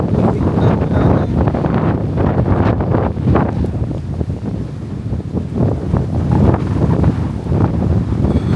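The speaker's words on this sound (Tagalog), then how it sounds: "Lakas ng hangin." Strong wind buffets the microphone outdoors in a loud, continuous low rumble with gusty surges throughout, and no voices are heard.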